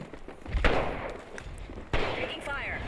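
Two heavy gunshot-like thumps in the video game Apex Legends, one early and one later, standing out against a busy game background with muffled talk in between.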